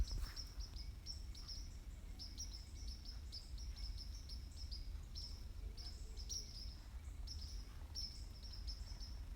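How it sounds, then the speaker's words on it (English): Birds chirping outdoors in East Texas in the early evening, faint, repeated high tweets scattered through the whole stretch over a low, quiet background, with no talking. "if you can hear the birds chirping a little"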